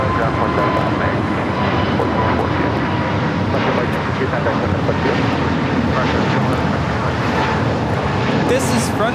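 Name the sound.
Frontier Airlines A320neo jet taking off at LAX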